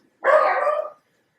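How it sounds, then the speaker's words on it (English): A household dog gives a single sharp, loud bark close by, a short burst that cuts off into silence. "When I'm filming, this is when they decide they want to bark."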